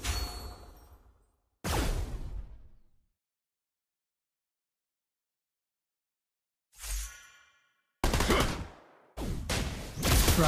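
Video game gunfire in separate loud bursts, each a sharp crack with a ringing decay, a single shot followed by a long silence and then several quick shots close together.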